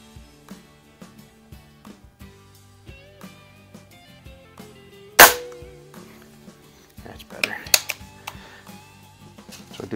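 Two sharp target shots ring out from .177 air rifles, a Walther LGR and a Benjamin Marauder, fired at 10 m. A strong pop comes midway and a second follows shortly after, over quiet clicks and handling sounds.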